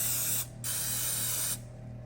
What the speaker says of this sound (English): We're going to spray up our muffin pan.